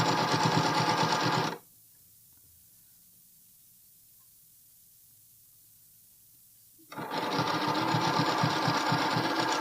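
Close sewing machine zigzag stitching elastic onto a bralette, a steady loud whir that runs, stops for about five seconds of near silence, then starts up again.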